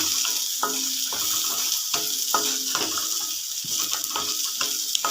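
Steady sizzling and crackling of dried red chillies frying in hot oil, with soft stirring scrapes in a pan, close and continuous.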